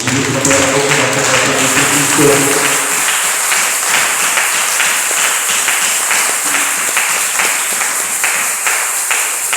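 Church congregation applauding together in sustained, loud, dense clapping that continues steadily, with voices briefly audible under the applause at the start.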